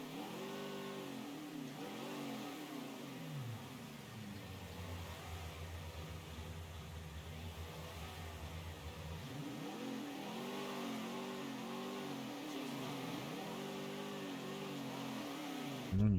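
A car engine revs in the video game Mafia III, with a steady mid-range drone rising and falling in pitch over several long sweeps, constant and fairly quiet throughout, with no talk.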